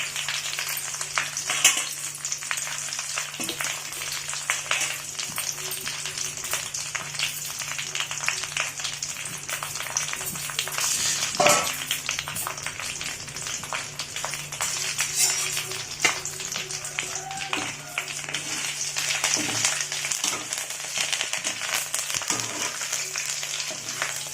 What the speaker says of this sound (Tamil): இப்போ வந்து கருவேப்பிலையே முறுமுறுன்னு வர அளவுக்கு நல்லா வறுத்துக்கலாம்.